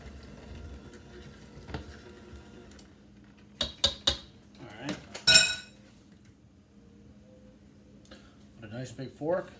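A big fork clinks against a bowl while mixing biscuit dough with butter, a few bright close clinks rising over a quiet room hum, with softer kitchen handling sounds around them.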